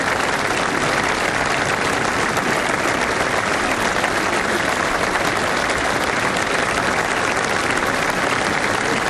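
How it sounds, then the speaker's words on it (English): A large outdoor crowd at a D-Day commemoration for veterans gives sustained, dense applause and a standing ovation, an even roar of clapping that holds at full strength throughout. "the swelling applause, and then the standing ovation."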